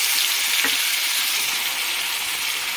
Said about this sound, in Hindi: इसको अच्छे से हम फ्राई कर लेंगे थोड़ा।